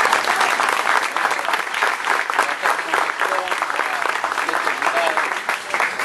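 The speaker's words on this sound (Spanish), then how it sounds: "un fuerte aplauso" Audience applause at a memorial gathering in San Fernando, a sustained crowd of hands clapping loudly and continuously, with faint voices and cheers mixed into the clapping.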